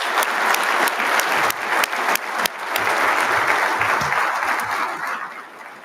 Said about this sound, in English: Would you please join me in a final round of applause for all our awards recipients?